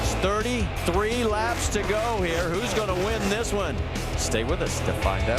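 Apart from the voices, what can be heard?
No everyday noise stands out behind the speech.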